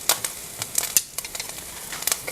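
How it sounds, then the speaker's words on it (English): Kale and garlic sizzle in a hot pan with a steady hiss and sharp crackling pops scattered throughout, fairly close. "Still sizzling. That's exactly what we want."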